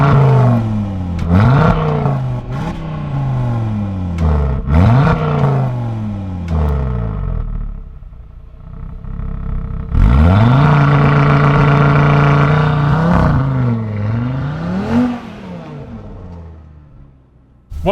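An Audi RSQ3 Sportback's 2.5-litre five-cylinder engine revs hard through repeated rising gear pulls while launching in snow, loud and close, with a brief drop before another strong surge and a final wind-down.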